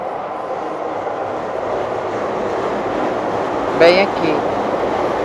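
A train on the line to Shinjuku rolling steadily past in the background, a continuous rumble with a brief metallic screech near the end, while someone speaks over it.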